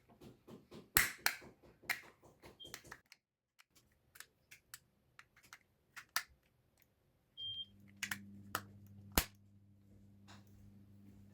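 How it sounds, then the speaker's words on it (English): Plastic Toyota key fob case pressed back together, giving a series of sharp, close clicks and snaps in an irregular rhythm, with a few louder cracks spaced over several seconds and a faint low hum underneath. "Now click it all back together."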